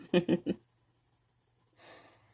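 A few short vocal sounds, then a soft, scratchy rubbing of a blender pencil smoothing Lyra Polycolor colored pencil on paper near the end.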